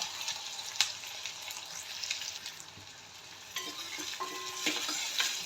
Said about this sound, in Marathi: छान असा कांदा लालसर होईपर्यंत असा परतून घ्यायचा